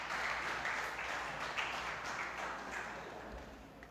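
A congregation at a church service applauds for the Lord, a fairly faint, steady patter of many hands clapping that slowly tapers off toward the end.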